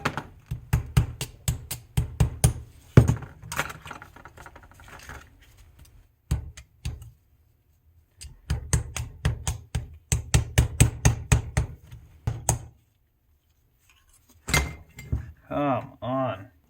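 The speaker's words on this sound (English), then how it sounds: "There's a hammer." Repeated sharp hammer blows strike a Foxbody Mustang steering rack in bursts of rapid metallic hits, loud and close, with short pauses between volleys and a voice briefly at the end.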